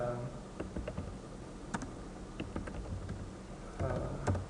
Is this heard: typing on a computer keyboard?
yes